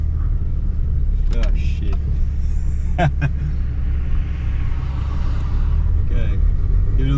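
A 1983 Ford Falcon XE drives along a road under light throttle, its engine a steady low rumble with road noise throughout, while someone talks briefly over it.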